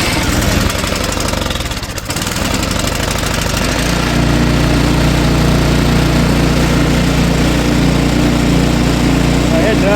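An Ariens snowblower engine turns over roughly, then catches and settles into a loud, steady running drone, close by and continuous throughout.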